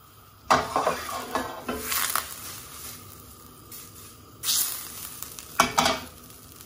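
A basic beurre blanc sauce gently reducing in a pan, a soft continuous sizzle with bursts of louder bubbling and stirring scrapes against the pan, close and without talk.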